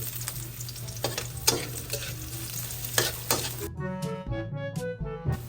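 Garlic, onion and ginger stir-fry in hot oil in a pan for chicken curry, a steady close sizzle broken by scraping stirs, the frying calming to a quieter crackle near the end.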